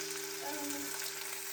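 Soy sauce poured into hot oil with carrots in a pan gives a steady, close sizzle and frying hiss throughout, with faint stirring and no talk.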